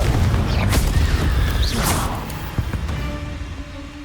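Confringo spell blast in Hogwarts Legacy: a booming explosion with whooshing debris and crackling impacts, loud and close, tailing off into rumble.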